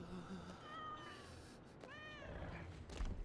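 A cat form in the video game ARK Survival Ascended meows in a drawn-out call, followed by a second rising meow, over steady game ambience and music.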